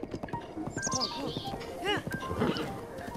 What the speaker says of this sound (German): mein Pferd macht Schenkelweichen hier